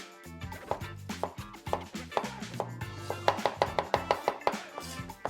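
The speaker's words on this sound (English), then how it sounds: "for the ginger, in case you don't know, use a spoon to peel the skin" A spoon scrapes the skin off fresh ginger in a kitchen, a quick series of crisp, rhythmic strokes that grow more regular, close up with no talking.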